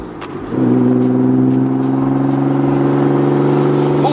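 A Nissan car's deep, loud exhaust drones steadily after a short quieter start, a sustained low rumble that holds close and even with no talking.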